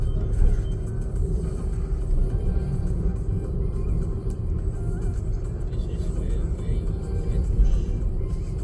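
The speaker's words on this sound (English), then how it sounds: "we're just going for a morning drive on such a lovely sunny day" A car drives on a suburban road in Auckland on a sunny morning, a steady low engine and road rumble from inside the cabin with no break and no talking.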